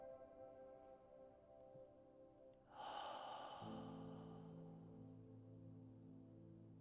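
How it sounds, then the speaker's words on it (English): A long, deep cleansing breath during a guided meditation, a slow swelling rush of air heard alone over a steady low hum, rising sharply then easing into a sustained soft exhale. "And now let's take a nice long cleansing breath."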